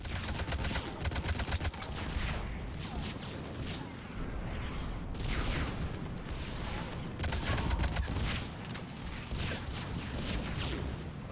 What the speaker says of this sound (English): Bombs going off everywhere